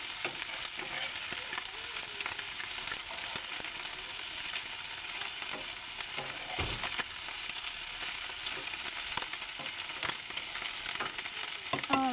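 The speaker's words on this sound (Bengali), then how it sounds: "মাছটা আমি অনেক কড়া ভাজে দিচ্ছি, যেহেতু গুঁড়া মাছ," Small fish frying hard in hot oil until crisp, a steady dense sizzle with occasional light stirring clicks, close and continuous throughout.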